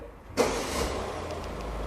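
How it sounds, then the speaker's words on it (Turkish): Citroen C5 Aircross engine cranks and catches with a sudden burst, then settles into a steady close idle hum. "Açın farları çalıştırın arabayı."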